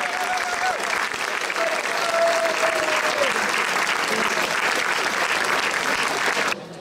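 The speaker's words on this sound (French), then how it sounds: "Je vous demande donc de les applaudir très très fort" Loud applause for young Basque dancers at the Fêtes de Bayonne: a large outdoor crowd claps steadily and densely. A faint tonal whistle-like sound briefly sits under the clapping near the start before it stops abruptly.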